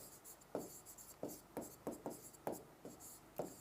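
Someone writes on a board during a Hindi grammar lesson, making about eight quick, quiet scratchy strokes at an even pace with no talking.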